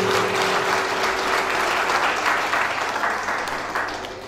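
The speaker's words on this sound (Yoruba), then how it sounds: "Ẹ jọ̀wọ́ ẹ jẹ́ ká pàtẹ́wọ́ fún kábíyèsí lẹ́yìn." Audience at a community health care launch ceremony applauds for a king, a dense, loud, continuous clapping from many hands that eases off slightly toward the end.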